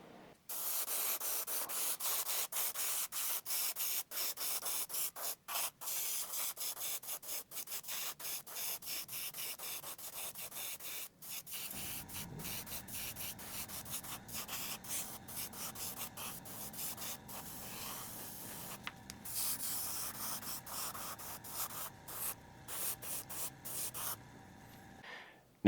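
An aerosol primer can hisses in long, continuous bursts broken by brief stops while base-priming a Dark Angels miniature, the spray close and steady with a rattling, textured edge throughout.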